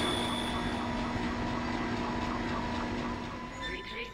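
A damaged tram car retracts in the Dead Space video game, a loud, steady mechanical rumble with a sustained hum that eases off slightly toward the end.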